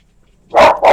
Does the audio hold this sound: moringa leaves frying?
no